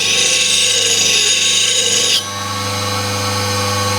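A Hope three-point tool is rubbed against a sharpening block, a close, continuous rasping scrape that drops to a quieter, lower grind partway through.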